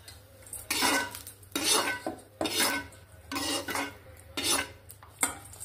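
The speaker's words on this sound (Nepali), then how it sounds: "अब यसलाई म बाटामा निकाल्छु" Utensil scraping fried mushrooms out of a pan into a bowl, with repeated clattering metal scrapes in bursts of about a second, close and moderately loud over a low steady hum.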